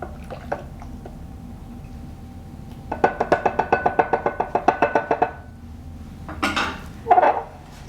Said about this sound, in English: I'm going to stir it up, get the pepper wet.